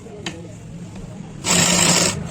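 A sewing machine stitches a seam on a pant, quiet handling at first, then a loud burst of fast motor-driven stitching for under a second before stopping.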